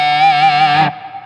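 An electric guitar in a guitar store played through distortion, giving a single sustained, buzzy chord that rings loud and close before being cut off abruptly near the end, with no voices.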